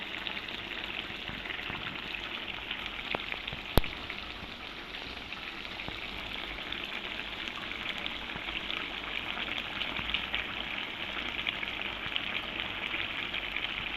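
Pointed gourd (potol) fries in oil with spices, giving a steady, even crackling sizzle that holds for the whole stretch. One sharp tick stands out briefly, and no one speaks.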